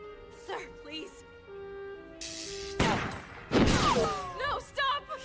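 Gunfire in an English-dubbed anime fight scene, with dense bursts of shots and impacts mixed with music and effects while voices speak throughout.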